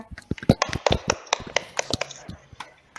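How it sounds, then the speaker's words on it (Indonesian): A classroom group claps for a student in quick, uneven handclaps, loud and close at first, then thinning and fading toward the end. "Tepuk tangan untuk Bu Ena."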